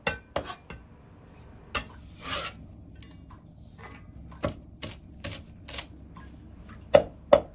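Chinese chives cut finely with a cleaver on a cutting board: sparse, sharp knife knocks, some in quick pairs and others spaced out, close and clear with no talking.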